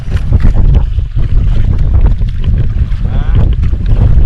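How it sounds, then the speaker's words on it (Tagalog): Strong north wind at sea off Carabao Island, Maragondon, Cavite, roars loudly and continuously against the microphone beside a boat, with low buffeting rumble throughout and faint voices underneath. "Lakas na ng norte."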